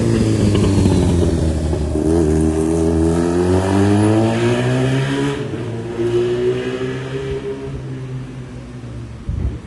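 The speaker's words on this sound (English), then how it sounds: "Look at this motorcycle." A motorcycle engine revs up and down on a closed road beside a stone building with trees out front, loud and close, its pitch rising and falling in long sweeps before easing off.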